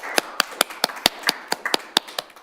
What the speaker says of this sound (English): Yeah, we'll applaud you.